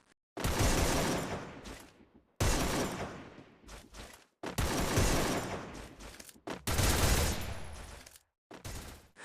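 Gunfire crackles in a shooter video game, about five loud bursts of rapid automatic fire separated by short silent gaps, with no one talking.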